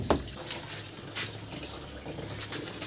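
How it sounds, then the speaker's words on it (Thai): Tap water runs steadily during hand-washing of clothes outdoors, a continuous close splashing hiss with a few louder bursts of water. "โอ้น้ำไหลละ"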